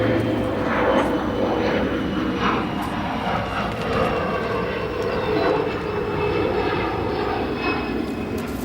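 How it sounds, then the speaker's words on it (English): Retro-liveried CRJ 200 regional jet departing runway 28 right at Chicago O'Hare, a loud continuous engine roar that holds steady throughout, with no voices. "we have another retro CRJ 200 departing runway 28 right"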